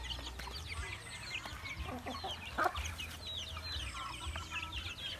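Native hens clucking in a farmyard with a steady low hum of background noise, their calls overlapping continuously and one sharper squawk standing out midway.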